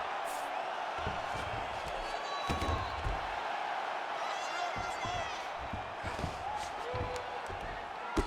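A steady roar from an arena crowd fills the background of a UFC 5 video game fight, with occasional thuds and bursts of reaction and commentary-like talk over it.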